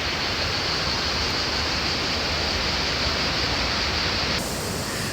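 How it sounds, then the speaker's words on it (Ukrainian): The Krka waterfalls in Croatia roar in a dense, steady rush of falling water, loud and continuous throughout with no voices. "Це перші наші водоспади"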